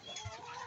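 A chicken clucks briefly at close range in a farmyard, a soft low burst amid a steady background hum.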